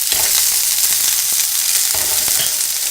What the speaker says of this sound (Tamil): இப்போ பார்த்தீங்கன்னா வெங்காயம், பூண்டு, இஞ்சி, மிளகாய் எல்லாமே நல்லா வணங்கிருக்கு